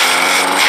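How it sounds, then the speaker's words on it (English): Lawnmower engine running loud and close, a harsh, dense buzzing drone that continues without a break for under a second. "Caillou, what on God's green earth are you doing with my lawnmower? Shut it off right now"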